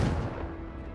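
A Confringo blasting spell goes off in the Hogwarts Legacy video game as a single sharp, booming burst that fades over about a second.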